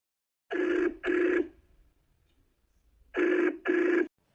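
A telephone rings in two double bursts, each pair of rings loud and clear with a pause between them, with no talking.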